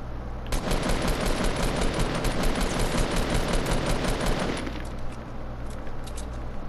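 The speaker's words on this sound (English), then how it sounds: "I'm using a blue assault rifle" Rapid sustained bursts of automatic assault rifle fire crackle loudly in a laggy online shooter match, then cut off into quieter background game noise.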